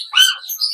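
A blue pallid mutation bird in an aviary gives one brief, sharp chirp close by, with no other sound around it.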